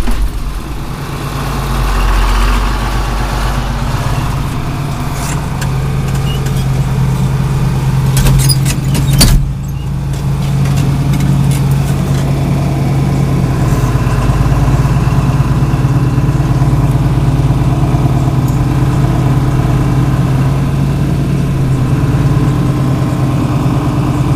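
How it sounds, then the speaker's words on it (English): A 1973 International Loadstar 1600 truck engine idles steadily with a low, continuous rumble throughout, joined briefly by a short clunk near the middle. "Now we just gotta get the tractor backed up."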